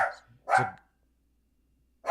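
A dog barks loudly and close by, three separate sharp barks spaced out, with silence between them and no talk.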